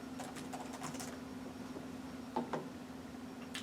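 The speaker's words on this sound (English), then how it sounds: "To all you hearing me clickety clack on my laptop" Typing on a laptop keyboard: a steady run of crisp clicks, with a couple of sharper key strikes, heard close over a constant low electrical hum.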